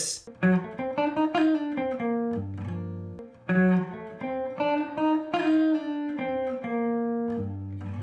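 A clean guitar runs a quick, winding diminished bebop lick of rapid single notes, played twice with a short pause between, clear and close with no talking.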